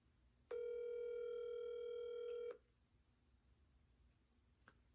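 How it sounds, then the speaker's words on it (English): A steady electronic telephone tone sounds for about two seconds, then stops abruptly, leaving quiet room hiss with a faint click afterward. "Here we go. It's ringing."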